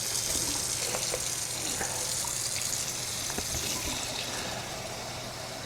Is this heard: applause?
no